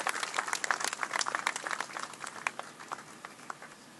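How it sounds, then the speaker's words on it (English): Scattered applause from the audience at a clinic groundbreaking ceremony, uneven claps that start fairly full and thin out over about four seconds, moderately distant. "Can you please give him a round of applause?"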